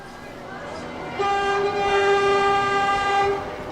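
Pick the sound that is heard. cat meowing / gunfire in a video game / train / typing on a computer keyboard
train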